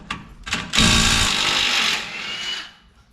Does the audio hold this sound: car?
no